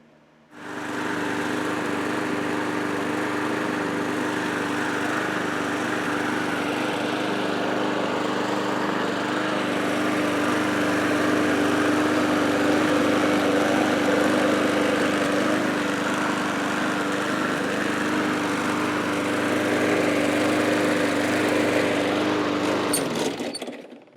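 An MTD lawn mower engine, freshly repaired with the head torqued down, starts and runs continuously for over twenty seconds, a steady close, loud buzzing drone with a constant pitch and no talk, then cuts off at the end.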